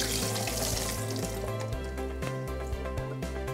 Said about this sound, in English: I'm just going to drain the water out